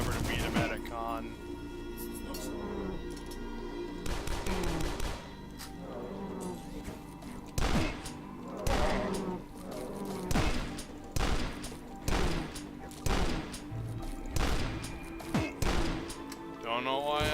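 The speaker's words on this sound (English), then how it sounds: "Don't know why I'm using single shotguns." Single shotgun blasts in the video game DUSK, a steady series of loud, sharp booms spaced about a second apart, with game sounds underneath.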